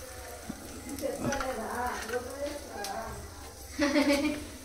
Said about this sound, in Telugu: వంట చేస్తున్నామమ్మా, వంట చేద్దా?